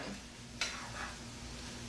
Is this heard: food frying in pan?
yes